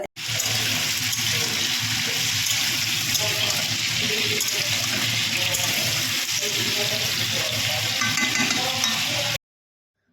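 Raw chicken being rinsed under a running kitchen tap, a steady close gush of water for about nine seconds before it cuts off abruptly.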